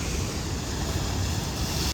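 Strong sea waves crash against a stone harbour breakwater that juts far out into the sea, a steady broad roar of surf and spray with wind buffeting the microphone, and no voices.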